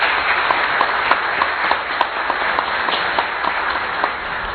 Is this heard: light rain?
no